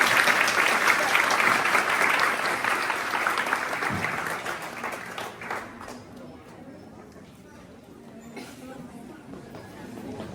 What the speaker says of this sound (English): So big hand of applause for this.